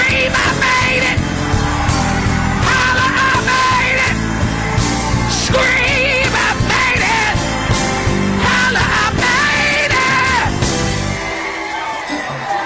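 A church congregation at a gospel service yells and screams together, loud and sustained over music, with shouting voices throughout and a slight drop near the end.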